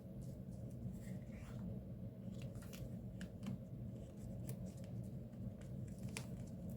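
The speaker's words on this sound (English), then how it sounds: "Let's see if I have some heavy duty scissors. And watch, I cut it." Several sharp snips of heavy-duty scissors cutting through journal paper come quietly over a low background rumble, irregular and close by.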